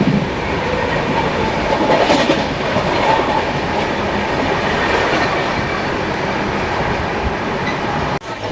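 The Tamil Nadu Sampark Kranti express runs at speed, a loud continuous roar of wheels and rushing air with clickety-clack rhythm, heard from inside the coach and briefly broken by a sharp knock near the end.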